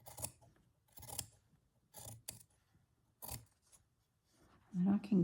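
Scissors trim paper for a handmade journal in several separate bursts of close, crisp snipping, with quiet gaps between cuts.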